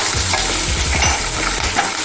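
Slit green chillies frying in hot oil for a carrot and coconut curry give a loud, continuous sizzle close up, with stirring scrapes in the pan and no voices.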